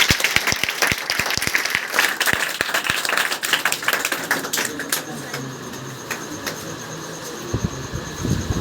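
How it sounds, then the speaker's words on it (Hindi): Loud, dense applause fills a coaching centre hall as a crowd claps for its toppers, sharp close hand claps layered over a continuous roar that thins slightly toward the end. "सबसे पहले उन लोग के लिए जोरदार ताली हो जाएगी।"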